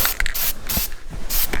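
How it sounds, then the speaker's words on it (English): Etching primer hisses from a spray can onto bare metal on a Mazda RX7, coming in several short close bursts separated by brief pauses. "it's time to basically just primer all the bare metal spots with etching primer"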